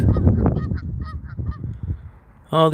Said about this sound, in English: here these geese are out hanging out in the parking lot